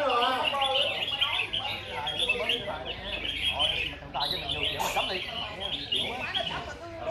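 Many red-whiskered bulbuls singing at a crowded outdoor bird song contest, dense overlapping bright chirps and warbling phrases throughout, with people talking in the background.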